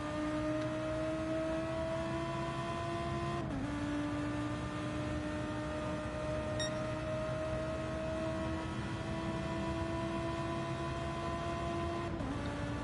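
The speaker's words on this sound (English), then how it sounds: "Nice V10 warble. Just like my road car. Warble, warble, that's what you want for an engine noise." A high-revving V10 racing engine drones steadily with a whining, warbling tone, briefly dipping in pitch during gear shifts, with no voices.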